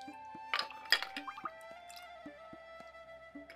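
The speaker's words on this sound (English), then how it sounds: "And we're gonna pour this in there." A cocktail is poured over Death Star-style ice into a Death Star glass, giving a few sharp clinks of ice against glass and a soft liquid trickle, close and fairly quiet with no talking.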